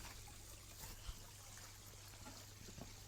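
Water trickles steadily over a garden waterfall in a tropical, jungle-style garden, a faint, continuous splashing with a low background hum and no voices.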